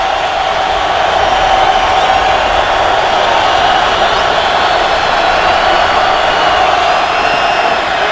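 A stadium crowd at an NFL football game, Titans at Raiders, roars loudly and steadily on a third down and ten, a dense sustained wall of cheering and whooping with no break.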